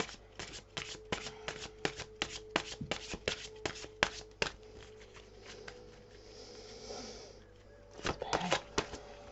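Tarot cards shuffling in repeated quick riffling bursts, close and fairly quiet, with a pause of softer handling before a final flurry of shuffles.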